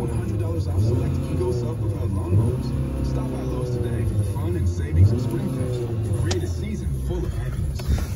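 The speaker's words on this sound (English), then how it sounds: "I give it a few revs." A 2020 Ford Fusion's engine is revved a few times up close, with a steady low rumble swelling and easing back in short pulses.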